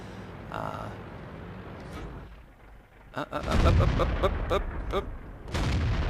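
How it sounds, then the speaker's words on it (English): Sherman E2 howitzer firing in World of Tanks, a sharp, booming shot followed by rumbling impacts and battle noise, with a voice talking over parts of it. "My goal is to always just land as many hits on enemy tanks with this howitzer as I can."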